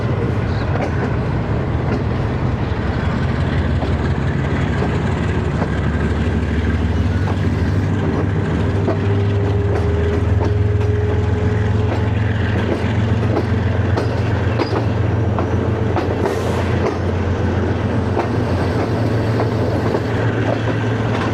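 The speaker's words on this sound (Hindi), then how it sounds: "GU20 नॉच अप करते हुए" GU20 diesel locomotive notching up while hauling a train from Lahore toward Havelian, heard as a loud sustained low engine drone with rolling wheel noise and faint rail clatter throughout, with no talking.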